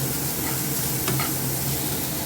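Chopped onion, ginger and garlic sizzling in a pan for a pointed gourd dish, a loud continuous close fry hiss with a faint stir click midway.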